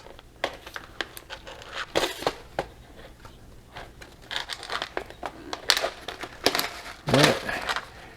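The top of a freeze-dried hash brown pouch is cut and pulled off, a series of close crinkling, crunching bursts of plastic with sharp snips and tearing at irregular intervals.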